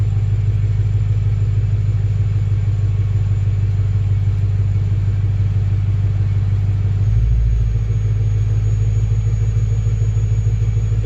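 A Lexus LS400 engine, being tested after fuel pump work, rumbles steadily and close up with no talk, its low drone shifting briefly around the seven-second mark.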